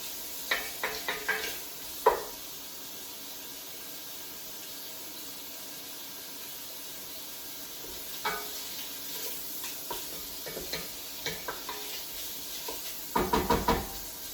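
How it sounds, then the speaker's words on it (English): Chopped bacon sizzles in a pan while a utensil stirs it, giving scattered clicks and knocks, a cluster of scrapes near the end, over a faint steady frying hiss. "we'll just give the bacon a little stir here"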